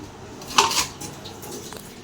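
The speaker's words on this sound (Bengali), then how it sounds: "সবগুলো হাঁড়ি পাতিল মেজে নিছি" Pots and pans clatter while being scrubbed and washed, one short, close burst of metal knocks followed by quiet room background.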